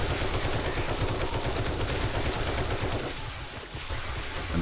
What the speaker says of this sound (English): Switch to the assault rifle while we do that.